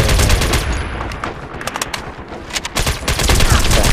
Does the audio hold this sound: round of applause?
no